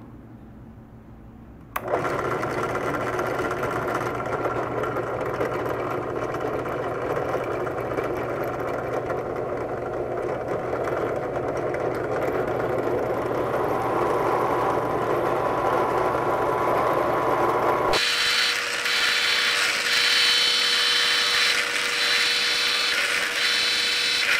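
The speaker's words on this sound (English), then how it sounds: "Get this ready to drill." A power drill starts abruptly and whines steadily for about sixteen seconds, then shifts to a higher, harsher pitch as it bites in, close and loud.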